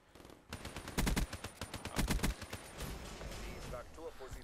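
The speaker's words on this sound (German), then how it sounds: "Oh, Schüsse." Bursts of rapid video game gunfire crackle loudly in quick volleys, with sharp repeated shots, then fade into scattered noise.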